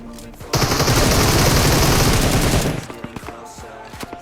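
Dense gunfight gunfire in a battle royale video game, a sustained burst of rapid automatic shots lasting about two seconds, loud and close, then dropping to scattered fainter shots and game ambience.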